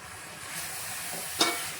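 Grated coconut tipped into a pan of jaggery and stirred, a soft, steady sizzle with faint scraping, then one brief louder hiss-and-clatter near the end.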